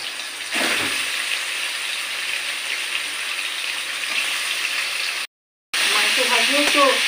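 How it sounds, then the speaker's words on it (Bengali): Chicken pieces frying in hot oil, giving a loud continuous sizzle. It cuts out briefly near the end, then comes back with crackles and stirring. "চিকেনটা আমি ভালো করে ভেজে দেবো"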